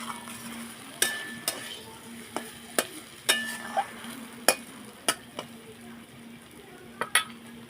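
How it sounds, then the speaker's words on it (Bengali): Papaya curry stirred in a kadai, with sharp spoon-on-pan clinks and scrapes spaced irregularly over a soft, steady sizzle. "একটু সময় নাড়িয়ে নামিয়ে আনবো।"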